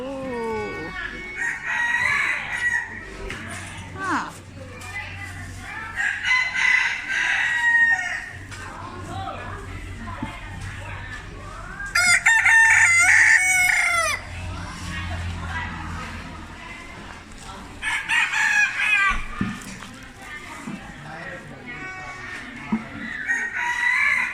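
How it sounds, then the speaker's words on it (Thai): Chickens and roosters at a Lao market, with repeated loud crowing and clucking from caged fowl, close by, mixed with vendors and shoppers talking throughout. "ไก่"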